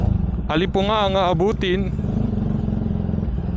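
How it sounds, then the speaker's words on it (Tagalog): Motorcycle ridden on a rainy day, its engine a steady low rumble throughout with a voice singing and talking over it near the start. "Sarap magmotor kahit maulan"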